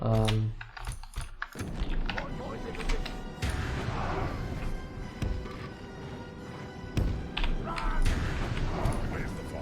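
Ballistae firing in a Total War battle near a siege tower, with repeated heavy thumps and mechanical clacks over dense battle noise and clatter, with sharper cracks scattered through.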